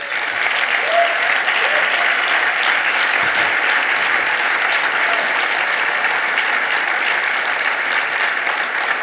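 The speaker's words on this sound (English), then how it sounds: "Please give them all a warm round of applause." Audience applause at an arts presenters' awards ceremony in New York, a dense, sustained roar of many clapping hands, steady and loud from start to finish.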